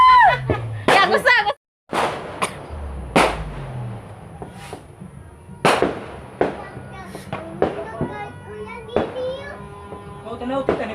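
New Year fireworks and firecrackers burst outdoors in a string of sharp, loud bangs spread through the stretch, with children's voices and chatter around them.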